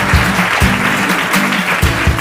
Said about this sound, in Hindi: जोरदार तालियां हो जाए भाई के लिए।